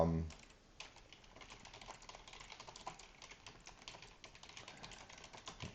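Fingers type on a computer keyboard in quick, uneven bursts of close, crisp key clicks, faint and steady after a short opening sound, with no talk over it.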